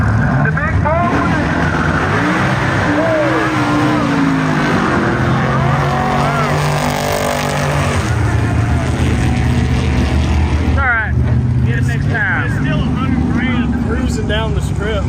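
Turbo Predator 670 dragster making a run down the drag strip, a loud continuous engine roar with shifting pitch and bursts, with voices over it near the end.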